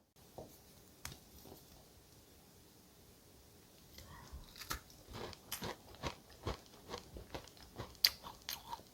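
Crisp bites and crunchy chewing of a cheese-flavoured keto shortbread cookie made without flour, sugar or eggs, close and fairly quiet, quickening into a steady run of crunches.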